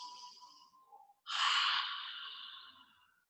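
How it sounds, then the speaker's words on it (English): A slow, deep breath during a yoga stretch: a soft inhale, a brief pause, then a longer, louder airy exhale that fades out, close and quiet. "Big deep breath, couple more."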